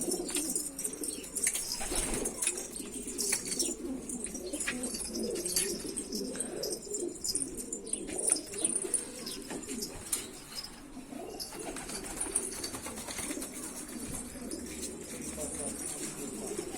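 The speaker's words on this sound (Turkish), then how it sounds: "Bunlar da hepsi yine getirdiği güverciler." Pigeons coo in soft, repeated low calls amid a busy flock, with occasional wing flutters and faint voices in the background.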